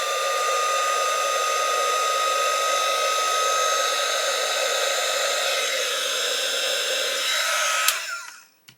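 A heat blower runs with a steady, loud, continuous whine and rush while shrinking tubing on a 1/8 scale Pocher Porsche 917 model, then switches off near the end and winds down to silence.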